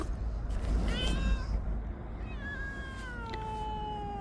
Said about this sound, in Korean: 빼꼼이가 야옹하는 소리야